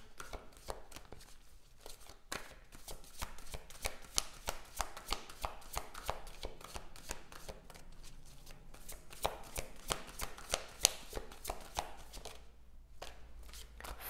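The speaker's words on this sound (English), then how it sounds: "I put another two oracle cards for this relationship." Oracle cards being shuffled by hand at a tarot reading, a quiet, steady run of soft flicking riffles repeating for several seconds with no talk.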